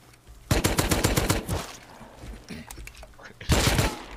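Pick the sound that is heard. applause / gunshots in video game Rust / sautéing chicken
gunshots in video game Rust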